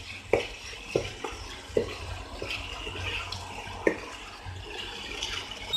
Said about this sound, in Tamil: இந்த பன்னீரையும் இதோட சேர்த்து மிக்ஸ் பண்ணி விட்டுருங்க.